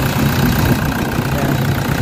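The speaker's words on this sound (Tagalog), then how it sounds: "Check natin yung engine. Ayan, so far okay na yung andar ng makina." A Toyota Fortuner engine runs steadily at idle, a continuous close mechanical drone with a rough low rumble and no pauses.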